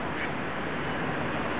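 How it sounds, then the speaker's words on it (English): Ducks from a family swimming on a river marked by an oil spill quack, though the calls are buried in steady broadband outdoor noise at low level for the whole short stretch. "family of ducks."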